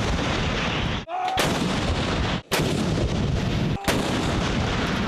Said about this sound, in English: Pulling a string on a cannon might seem like a quick and straightforward job